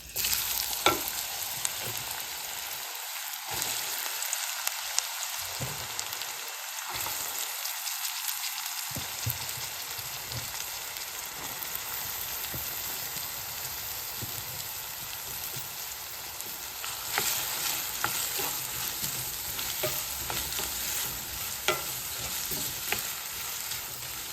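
Spice paste frying with panch phoron and bird's eye chilies for cabbage bhaji, a dense, steady sizzle and crackle with occasional stirring clicks, heard close and without speech.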